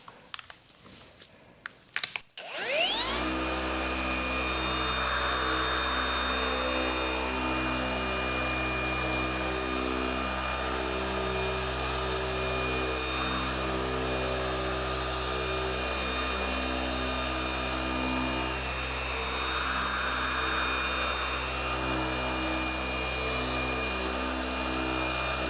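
A machine polisher cutting new car paint runs loud and steady after a brief rumble of startup, with a constant high whine holding for over twenty seconds and slight swells as the pad moves.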